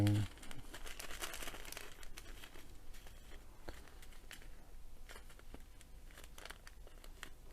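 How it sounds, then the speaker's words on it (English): Crinkling of a resealable plastic bag of diamond painting supplies being handled up close, a steady crackly rustle that continues throughout with brief louder crunches. "we've got a completely different type of bag, resealable bag"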